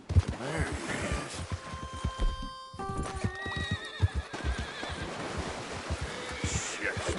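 A spooked horse in the Red Dead Redemption 2 video game gives a loud whinnying neigh amid rapid hoofbeats, with game ambience and a voice speaking.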